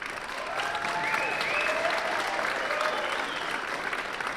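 An audience at a school winter band concert applauds the woodwind section, a steady wash of many hands clapping at moderate distance that swells and holds for several seconds.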